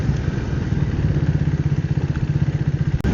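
A Triumph Speed 400 motorcycle on the road gives a steady, close engine rumble with a fast throbbing pulse and a brief dip near the end, with no talking.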